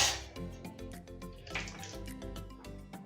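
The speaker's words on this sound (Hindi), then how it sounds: "एक पैन में मैं डालूंगी तकरीबन 3 टेबलस्पून के करीब पानी" Water poured into a pan for a raspberry jam cake topping, a close, steady splash and trickle with faint dripping and a few small clinks, running for a few seconds.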